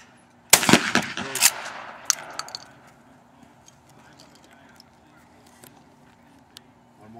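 A shotgun fired at a clay target during pheasant hunting practice outdoors, one loud sharp blast with a quick crackling tail, followed by quieter sounds and near silence.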